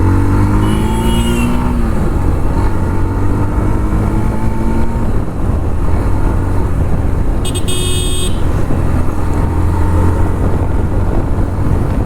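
A Yamaha FZ motorcycle pulls away after a U-turn on a rainy-season road, its engine droning loud and close with rising revs, a brief horn-like toot partway through, no talking.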